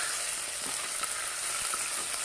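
Steady oily sizzling of stuffed eggplants frying in tempering oil in a pan, a dense crackle with a few soft pops, close and continuous with no voices.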